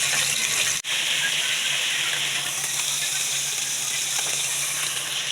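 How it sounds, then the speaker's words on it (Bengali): Rui fish pieces fry in hot oil with a loud, steady close sizzle and hiss, briefly cut off once near the start. "মাছগুলো ভাজতেছি, এরপরে এটা রান্না করব।"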